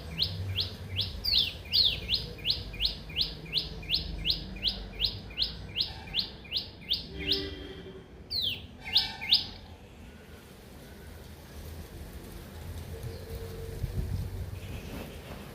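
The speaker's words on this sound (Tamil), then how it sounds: "காகம், புல்புல், புறா, குயில், அணில், மைனா, குருவிகள் போன்றவை வந்து ஒற்றுமையாக உண்டு செல்லும்." Birds at a rooftop feeding spot where crows, bulbuls, pigeons, mynas and sparrows gather, a rapid run of repeated sharp chirps up close, then scattered calls fading into soft outdoor ambience.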